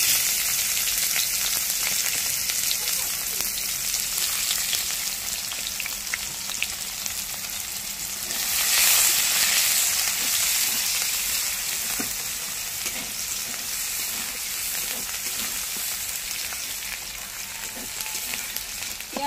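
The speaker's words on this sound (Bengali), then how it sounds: "পেঁয়াজ ভাজা হয়ে গেছে" Sliced onions sizzle steadily in hot mustard oil in a kadai, a dense, continuous frying hiss that stays close and even, with occasional light stirring and no voices.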